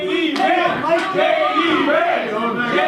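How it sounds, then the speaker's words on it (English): A wrestling event crowd chants in unison, many voices rising and falling in a rhythmic, loud chorus that fills the arena. "The crowd chanting J.D. Vance."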